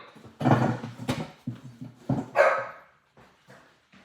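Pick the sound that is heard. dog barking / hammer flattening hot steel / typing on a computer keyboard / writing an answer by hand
dog barking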